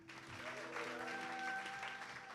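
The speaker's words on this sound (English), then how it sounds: "A massive round of applause for the fantastic" Steady applause from a live music audience at The Bedford fills the room, sustained clapping at a moderate level with a faint tonal hum beneath.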